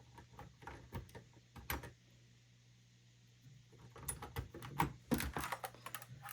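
Awekeys metal keycaps being pressed on a keyboard, bursts of clicky, metallic taps in uneven runs with a quiet pause in the middle, close and fairly soft.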